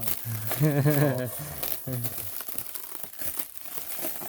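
Wrapping peeled off a Ford 5.4 L engine part crinkles and tears in short bursts, with people talking over and around the rustling.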